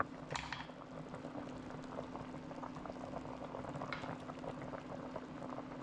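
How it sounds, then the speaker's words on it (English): A pot of seasoned food boils at a steady, dense bubbling, close and constant, with a couple of brief brighter splashes and no talking. "We finally brought this to a boil."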